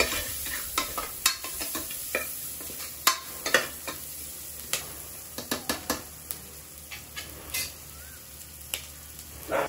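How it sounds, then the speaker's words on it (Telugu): Onions fry for biryani with cinnamon, clove, cardamom and bay leaf, crackling steadily close by while a utensil scrapes and clacks through the pan in irregular stirring strokes, with no talk. "ఆనియన్స్ బాగా ఫ్రై అవ్వనిద్దామండి"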